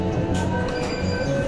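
A Mumbai Metro Line 7 train pulls into Dahisar station with a loud, steady rumble and a high wheel squeal heard from on board, close and continuous throughout.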